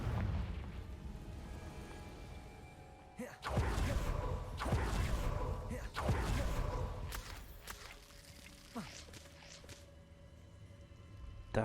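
Fiery Confringo blast spells from the Hogwarts Legacy video game go off as a series of loud, booming bursts a second or two apart, each with a crackling tail over a low game soundscape.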